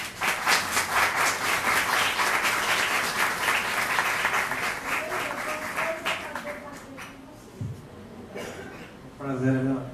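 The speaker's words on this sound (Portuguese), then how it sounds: "é salva de palmas para todas as mulheres." Applause from an audience at an academic talk on gender in global research, dense clapping that thins out over the seconds, with a voice speaking in the middle and at the end.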